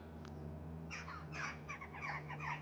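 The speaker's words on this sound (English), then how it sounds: "it's just the sound of birds tweeting" Birds, mostly crows, caw several times from some distance in a graveyard, their harsh calls coming in loose bursts over a steady low hum.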